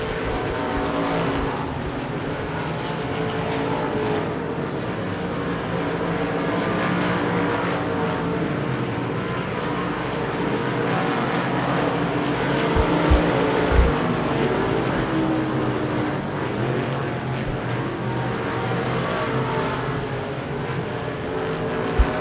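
Race cars circle Devil's Bowl Speedway in a continuous roaring, buzzing engine din, several machines overlapping at steady loudness with occasional sharper revs.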